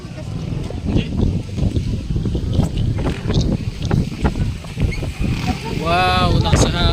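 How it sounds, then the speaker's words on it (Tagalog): Strong wind at a campsite buffets the microphone in heavy, gusty rumbles while people talk over it, with a brief warbling sound near the end. "Wow, lakas sa hangin, no?"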